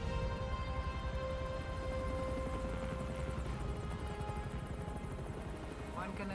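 A helicopter in the video game Gears of War 2 produces a steady, droning rotor and engine roar that holds evenly throughout.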